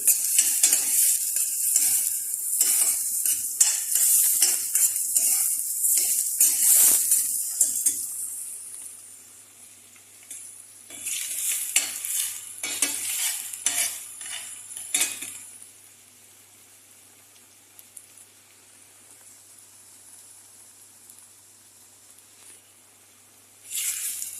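Shrimp sautéing in a pan for a chili paste dish, with steady bright sizzling and stirring scrapes for about fifteen seconds, then a quieter, fainter simmer and a brief louder burst at the end; no talking.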